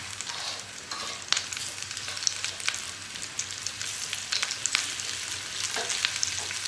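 Green chillies and two dried red chillies frying in hot oil for chana dal fara, a steady soft sizzle with a few sharp crackles and pops running throughout.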